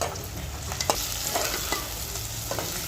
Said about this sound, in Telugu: ఆలుగడ్డలు కలుపుకోవాలి